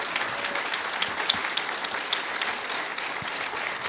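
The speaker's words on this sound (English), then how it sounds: "Let's give one more round of applause for everybody who spoke tonight." An audience applauds the evening's speakers at a community storytelling event, with sustained, even clapping from many hands throughout and no talk over it.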